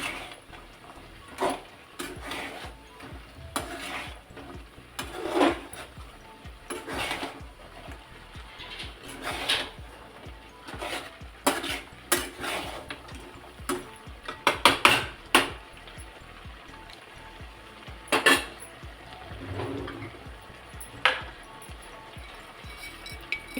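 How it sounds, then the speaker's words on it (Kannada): A spoon stirs ground spice powder into a chickpea chicken fry in a pan, giving repeated light metallic scrapes and clinks in an irregular rhythm, close and moderately soft, with a faint background hum. "ಈ ರುಬ್ಕೊಂಡಿರೋ ಪುಡಿನ ಮಿಕ್ಸ್ ಮಾಡ್ತಾ ಇದ್ದೀನಿ."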